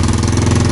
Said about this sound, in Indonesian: Nah, saya naikkan lagi gasnya.